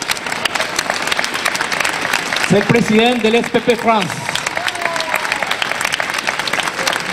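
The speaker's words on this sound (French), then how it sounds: "je vous demande un grand applaudissement pour Bernard" Audience applause at an awards ceremony for an international cocoa competition at a chocolate fair, a steady wash of many hands clapping throughout with someone speaking over it and brief cheering in the middle.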